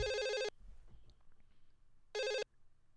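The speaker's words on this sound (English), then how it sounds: "I'm dialing. And it's ringing." Two electronic phone rings, each about half a second, separated by a quiet pause, heard through a line with faint background noise.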